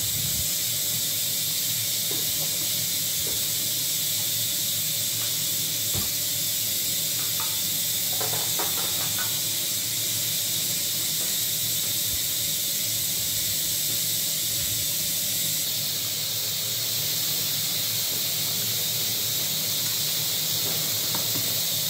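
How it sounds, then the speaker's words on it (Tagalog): A steady hiss and soft bubbling of coconut milk sauce with chicken liver simmering in a pan, continuous and close, with a few faint clinks along the way. "kumukulo na, oh"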